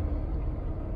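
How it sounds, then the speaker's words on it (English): Engine of a 2012 Range Rover HSE with 76,391 miles, a brief steady low rumble heard up close with no voices. "Revs up nice and strong."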